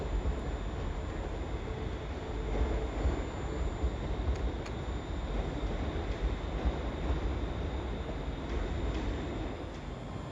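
A Scotrail train pulls into Glasgow Central station at the end of its run from Ardrossan Harbour, heard as a steady distant rumble under the station's hum, with no voices.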